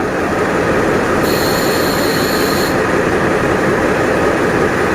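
A KIHA 183 special tourist train rolls past on the rails with a loud, continuous roar of wheels and rumbling carriages, with a brief high squeal partway through.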